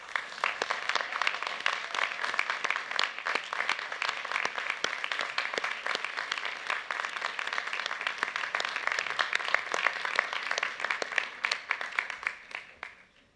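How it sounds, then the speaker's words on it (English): A university graduation ceremony audience gives the graduates' supporters a long, dense round of applause that holds steady for over ten seconds before tapering off at the end. "take a moment to acknowledge your supporters with an enthusiastic round of applause"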